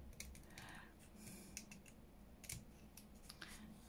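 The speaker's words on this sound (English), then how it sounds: "So these scissors are the little Tim Holtz." Small Tim Holtz craft scissors snip paper for a junk journal, giving a run of quick, sharp clicks and snips close by, fairly faint over a low background hum.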